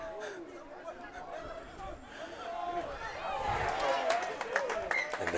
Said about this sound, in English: crowd thoroughly enjoyed that big tackle there